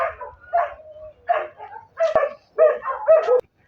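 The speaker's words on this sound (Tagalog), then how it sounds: "may mga aso" Several dogs bark in short, irregular bursts outdoors, some yippy and high, some deeper, fairly close with brief pauses between barks.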